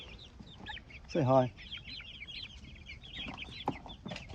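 Chickens in a fenced yard make soft, continuous clucks and chattering calls, with one louder, harsher squawk near the middle, close by, while a person briefly speaks.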